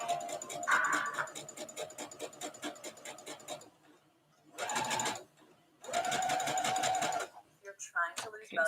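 A home sewing machine runs in bursts, stitching a row of fabric for a spring garment, its motor whirring in several stop-start runs separated by short pauses.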